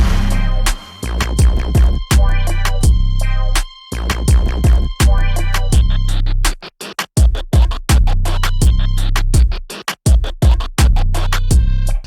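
Pop production beat with deep 808 bass under kick, snare, hi-hats and bongos, a bouncy, steady groove with sustained low bass notes and crisp percussion, loud and alone with brief dropouts and no talk.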